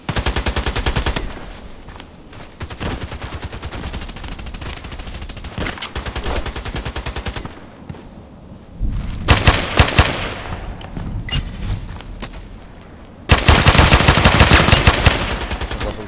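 AEK-971 assault rifle in the Contract Wars video game, firing loud rapid automatic bursts with brief pauses between strings of shots and one long closing burst, up close.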